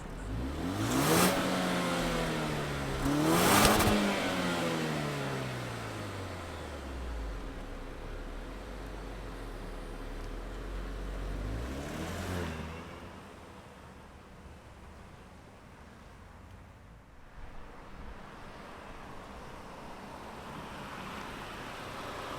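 A 2024 Range Rover Velar SUV engine turns over and catches, then revs up twice with rising and falling pitch before settling into a steady idle, heard up close.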